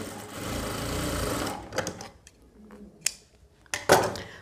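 Sewing machine stitching a blouse seam, a close continuous whirring run of about a second and a half, followed by scattered clicks and handling knocks of the fabric, no talking.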